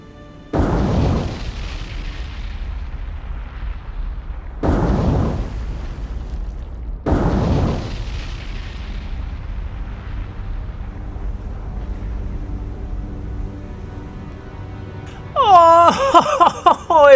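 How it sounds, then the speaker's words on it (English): Heavy booms from torpedo hits and magazine explosions aboard the battleship New Mexico in a naval video game: three deep, loud blasts spaced a few seconds apart over a steady low rumble, followed by a burst of warbling game sound effects at the end. "that is 2 magazine explosions on the New Mexico there"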